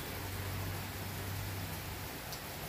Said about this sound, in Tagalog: ulan pa rin ng ulan